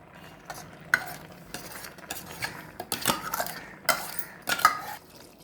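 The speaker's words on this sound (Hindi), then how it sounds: "अब हमने पूरा मसाला डाल दिया है और इसे अच्छी तरह मिलाएंगे।" Vegetables for avial, boiled and mixed with ground masala, are stirred with a metal spoon scraping against a pot, giving irregular clinks and scrapes at close range with no talk.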